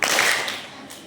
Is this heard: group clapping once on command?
yes